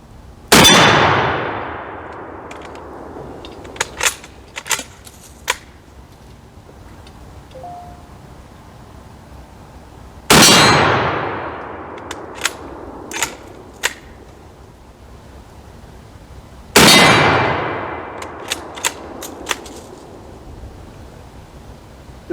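Three loud Mosin Nagant M91/30 rifle shots ring out about six seconds apart, each followed by a long decaying echo and several faint, sharp metallic pings from steel targets.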